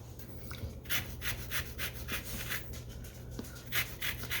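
A small hand grater zests a lemon, taking off only the yellow peel, in a quiet run of light, rhythmic scraping strokes, close and soft, with no talk.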